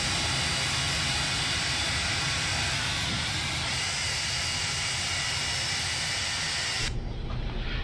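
Engine number 4 of a Boeing 747-200 spools up in the X-Plane 11 flight simulator. It is a loud, steady jet roar and hiss that holds for several seconds, then the high hiss drops away abruptly near the end.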